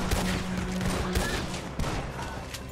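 Gunfire in the video game Red Dead Redemption 2, a dense run of shots cracking over a steady game soundscape, with a few sharper reports standing out near the start and middle.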